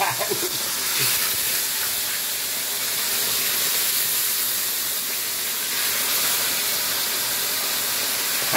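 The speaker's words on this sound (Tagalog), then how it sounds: "magprito tayo ng galunggong" Galunggong fish frying in a pan, a steady loud hiss and sizzle of hot oil that holds even and unbroken throughout, with only faint background noise.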